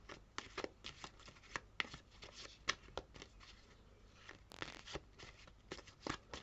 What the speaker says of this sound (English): I think it's the angle I'm shuffling here,